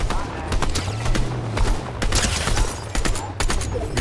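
Rapid gunfire from a Fortnite match, dense bursts of shots crackling over a steady low rumble, with players talking throughout.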